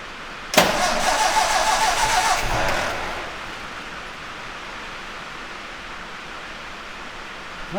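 A 1954 MG TF engine, with ether sprayed into its carburetors, suddenly catches and fires loudly for about two seconds, then dies away and leaves a quiet, low hum.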